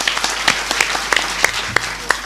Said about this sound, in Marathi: या सगळ्या विद्यार्थ्यांचं जरा टाळ्या वाजवून स्वागत करूया.